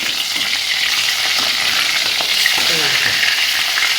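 Fish pieces fry in hot oil, giving a steady, loud, close sizzle with occasional stirring scrapes and no talking.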